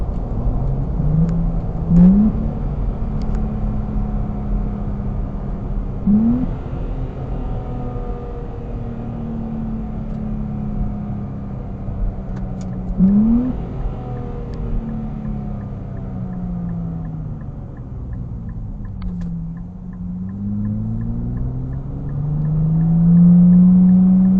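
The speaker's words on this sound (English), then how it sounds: "if you hear the downshifts" A car engine with automatic transmission hums steadily, its pitch dropping and climbing as gears shift down by themselves, with no talking, over a continuous road rumble.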